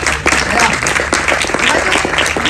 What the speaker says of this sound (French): Donc ça on peut les applaudir.